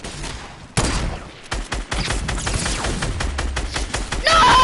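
Gunfire in the Fortnite video game, a loud dense fusillade of rapid shots and bursts filling the whole stretch, with sharp cracks and heavier booms close up.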